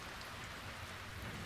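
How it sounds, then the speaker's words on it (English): Rain falls steadily in a dense, even hiss of drops on a surface, constant and moderately loud with no voices. "The rain fell. Hour after hour it rained."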